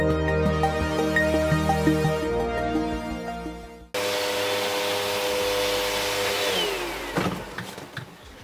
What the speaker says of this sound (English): we'll get the Hoover out, clean up all of this